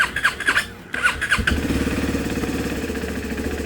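A Morbidelli T125 motorcycle engine, prone to losing revs, sputters and coughs through a few attempts, then catches and settles into a steady, rapid idle close by.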